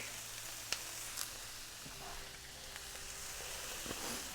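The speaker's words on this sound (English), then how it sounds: "I'm gonna come back to the onions. They're starting to get brown on the edges. I'm gonna add the garlic." Garlic added to onions browning in a pan, giving a soft, steady sizzle under faint kitchen clatter, with a few light taps and scrapes.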